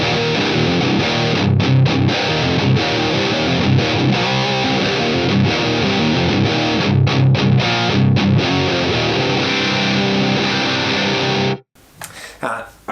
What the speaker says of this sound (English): This is my PRS SC245, and yeah, this is one of my favorite guitar sounds ever.